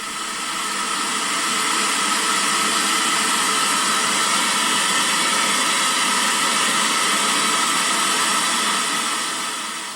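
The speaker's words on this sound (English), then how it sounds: "here is the sound of the white noise" Steady white noise from a synthesizer noise generator module, a broad, even hiss that fades in, holds level for ten seconds and eases slightly at the end, alone with no voices.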